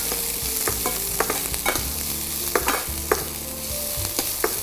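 Finely chopped onions with cloves and stone flower being sautéed in a little oil in a pan: a soft continuous sizzle with repeated sharp scrapes and clinks of a spoon stirring, close up, with no voices.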